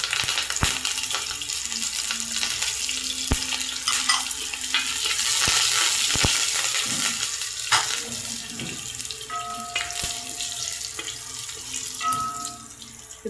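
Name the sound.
mustard seeds and curry leaves frying in hot oil in a pan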